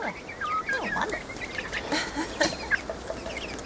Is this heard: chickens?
yes